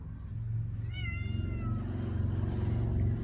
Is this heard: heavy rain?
no